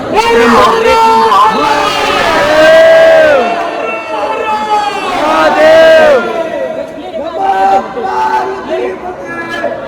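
A large crowd of trekkers gathered at the old Harishchandragad temple in the monsoon, many voices shouting and chanting together in loud rising waves, close and dense, with individual talk mixed in.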